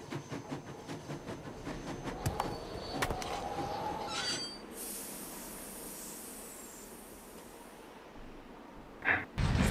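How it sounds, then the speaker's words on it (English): A departing train in the Nancy Drew game Last Train to Blue Moon Canyon, heard as a rumbling, clanking chug that builds into a loud steam hiss midway, then settles to a steady hiss with a brief sharp burst near the end. "Sounds like the train's leaving."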